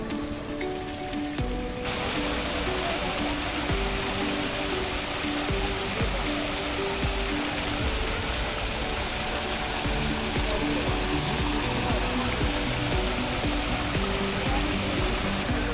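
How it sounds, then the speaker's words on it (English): Water splashing steadily in a fountain at Piazza Navona in Rome, a constant broad rush of falling water heard up close for the whole stretch, with faint background voices early on. "you don't hear about all these other fountains, which are very, very pretty to watch"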